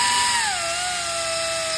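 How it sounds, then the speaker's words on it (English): A small 90-degree power drill chamfers the edge of an engine head bolt, whining steadily and loudly as its pitch sags once early, then holds an even high drone throughout. "I just take my little 90 degree drill and I start it"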